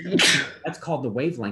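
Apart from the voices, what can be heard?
sneeze in lecture hall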